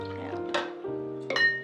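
Water pours into a cooking pot holding sugar and pumpkin for pumpkin syrup, a short splashing fill with a couple of clinking bursts, close and moderately loud.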